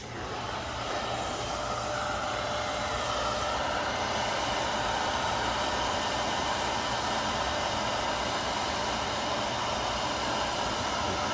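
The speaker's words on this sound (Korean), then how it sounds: "드라이기도 살짝 더 날려볼게요" A hair dryer blows steadily and loudly throughout, a constant airy whoosh with a low motor hum underneath, used while applying paint protection film to a Hyundai Santa Fe trunk lid.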